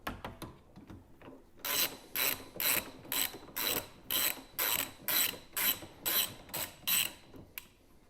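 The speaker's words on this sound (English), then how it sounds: "What you need is a 13mm socket, and then you can just untighten the bolts." A 13mm socket ratchet loosening roll bar bolts on a Toyota MR2, a rapid series of about a dozen rhythmic clicking ratchet strokes, close and fairly quiet, with no talking.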